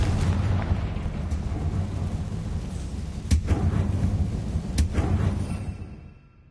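Confringo fire spell explosions in the video game Hogwarts Legacy, a sustained rumbling roar punctuated by two sharp bursts that fade away at the end, with no talking.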